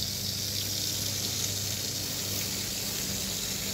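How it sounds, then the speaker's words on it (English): Water running down roof gutters after a roof wash on a boathouse, a steady broadband rush and splash that continues evenly and fairly close throughout, with no talking. "Running a bunch of water down the gutters just to make sure we dilute it"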